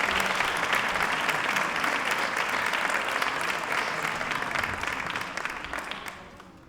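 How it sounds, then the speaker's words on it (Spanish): A theatre audience at a colloquium on the play 'Lagunas y niebla' applauds visitors from Málaga with dense, even clapping that holds steady and then fades out at the end. "yo iba a pedir un aplauso para ellos"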